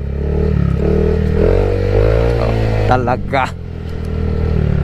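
A Honda PCX 160 scooter engine hums and revs steadily and loudly up close, its pitch rising and falling, with brief scraping clatter midway and someone talking over it.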